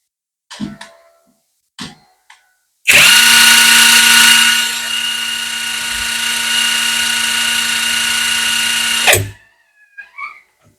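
A J-LD JV88 48V cordless impact wrench runs at its lowest speed setting for about six seconds, a loud, close, steady motor whine with a high pitched tone. Brief handling clicks come before and after it.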